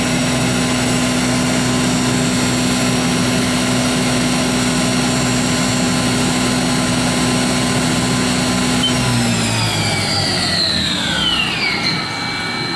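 Haas VF-5/50XT CNC vertical machining center, new in 2007, with its spindle running at 7,500 RPM: a steady loud tonal whine with high harmonics, then winding down in pitch near the end as the speed drops, no talk.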